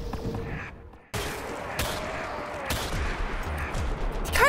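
Gunshots from a weapon in Black Ops 3 Zombies, a sharp burst after a brief gap followed by a few spaced, fairly slow shots amid busy game noise.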